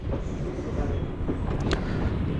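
A train rolls along near Mysore railway station, a steady low rumble and rattle of wheels and carriages heard from on board.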